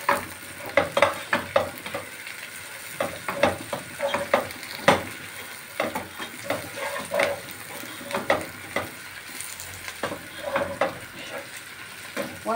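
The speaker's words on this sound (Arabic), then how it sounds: "بنحمر المكرونه بتاعتنا كمان اهو، والفلفل بتاعنا اهو متدبل" Pasta and peppers fry together in a pan for an Egyptian tagine, with repeated scraping stirs and clinks over a soft sizzle, close and fairly quiet.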